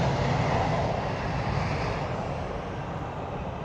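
Jet airliner at London City Airport, a loud, steady broadband roar close by that slowly eases in level, with no talk over it.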